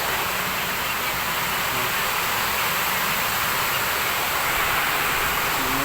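Steady rain falls outdoors, a dense, even hiss that continues unbroken and fairly soft throughout.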